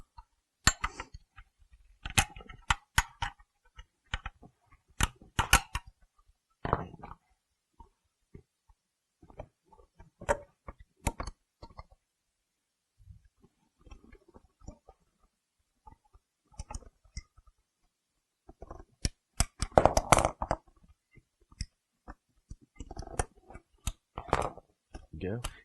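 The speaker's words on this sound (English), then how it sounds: "So I'm going to go ahead and just take all these clips off" Wiring clips are popped off beneath a Chevy driver seat of a 2000–2002 model, giving scattered sharp plastic clicks and snaps in irregular clusters, close by, with someone talking between them.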